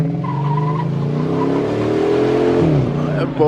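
A McLaren 720S engine revs loudly and close by, its pitch climbing and dropping, while excited voices shout and talk over it.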